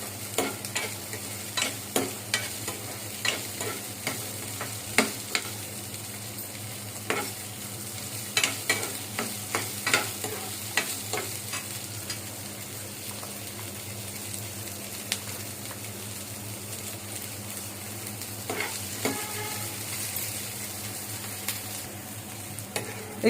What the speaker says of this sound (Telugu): పచ్చిమిరపకాయలు, ఎండుమిరపకాయలు మొత్తం కలిపి ఫ్రై చేసుకోవాలి